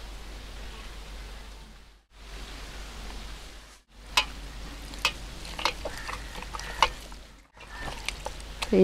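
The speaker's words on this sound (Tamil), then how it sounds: "இஞ்சி பூண்டு போட்டு கிளறியாச்சு." Ginger-garlic paste is stirred into meat masala frying in a pot, giving a steady close sizzle with scattered scraping clicks from the spoon that grow busier toward the end, with brief pauses and no talking.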